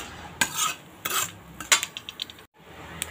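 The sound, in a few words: roasting mustard seeds and fenugreek in pan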